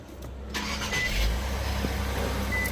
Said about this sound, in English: And you go start the car.